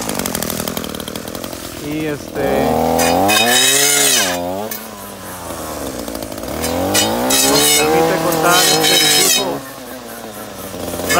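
ECHO SRM brushcutter with a universal saw attachment cutting branches: a loud two-stroke engine revving up and down in rising and falling swells, with the blade biting into wood, and a voice speaking over it.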